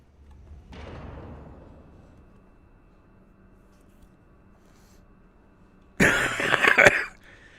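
A person coughs close by, a single fit of hoarse coughing early on and a louder, harsher burst near the end, with quiet between.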